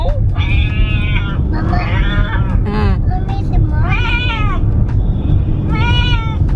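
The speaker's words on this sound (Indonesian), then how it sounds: "Dia mau dimainin suara kucing." A recorded cat meows repeatedly, each cry played back for a fussing child and layered over constant background noise and adult talk.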